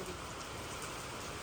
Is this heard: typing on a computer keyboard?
no